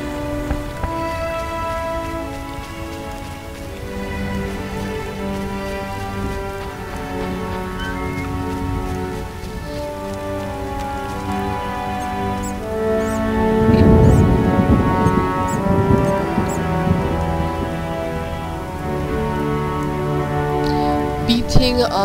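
Rain falls in the video game The Witcher, a steady hiss of drops that grows heavier partway through, mixed with game music and occasional voices.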